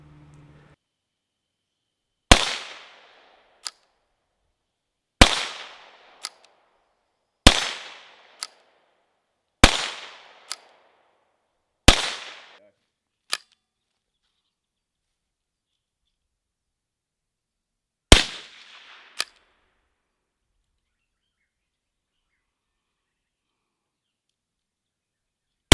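A CZ 515 lever release rifle fires six sharp shots at irregular intervals a few seconds apart. Each crack is followed by a short decaying echo and a faint distant report, with silence in between.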